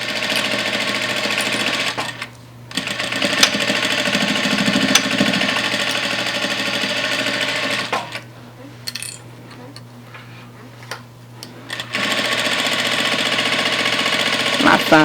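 A Vevor industrial sewing machine back-stitches knit fabric in loud, steady runs of motor hum and needle chatter, broken by two short pauses where the machine stops before starting again.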